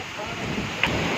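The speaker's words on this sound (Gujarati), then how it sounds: "ગાइस વાવાઝોડું આવ્યું છે, જોઈ રહ્યા છો" Heavy rain and gusting wind roar across open farm fields during a windstorm, producing a dense, steady wash of noise close to the microphone with a brief sharper burst near the end.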